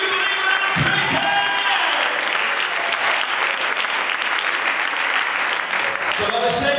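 A church congregation claps and applauds during a sermon, a full, sustained wash of many hands with some cheering, with voices mixed in at moments.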